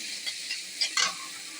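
Onion, salt, turmeric and tomato paste sizzle in a frying pan for fish curry, a steady bright hiss broken by a few louder crackles and stirring scrapes near the end, close and with no talk.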